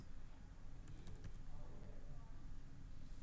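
Keys clatter on a computer keyboard while entering text in MS Word, a short quick burst of faint clicks partway through, set against a low background hum.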